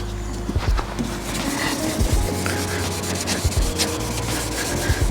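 Wet sanding of car paint by hand gives a steady gritty rubbing with repeated scraping strokes and knocks as the grit catches, close and fairly loud throughout.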